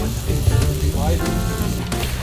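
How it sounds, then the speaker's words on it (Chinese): A double-egg pancake fries on a camping griddle at a group campsite in Xinshe, Taichung, with a close, steady sizzle running throughout and voices faintly present around it. "哇，双蛋煎饼哦"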